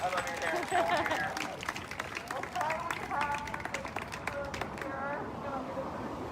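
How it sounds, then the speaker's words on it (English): A street protest crowd in Portland, Oregon applauds for Zoe with thick, steady clapping while voices cheer and shout over it, and the noise fades toward the end. "Let's give a round of applause for Zoe!"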